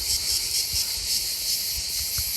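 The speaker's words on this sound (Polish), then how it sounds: "w ciągu dnia słychać cykady, jest ich tutaj pełno i robią całkiem duży hałas" A dense, steady buzzing drone of cicadas in Italy fills the background, loud and continuous with slight pulsing swells, with low rumbles underneath.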